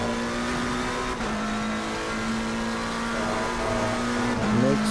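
A McLaren race car in Assetto Corsa Competizione at Silverstone, its engine droning loud and steady with pitch shifts as it brakes hard, plus a brief tyre squeal near the end.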